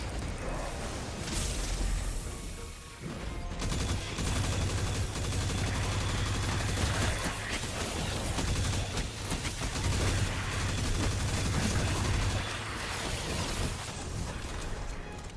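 Gunfire from the Destiny video game: a dense, continuous barrage of shots and blasts that stays loud and steady with little pause throughout.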